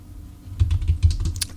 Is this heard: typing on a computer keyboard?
yes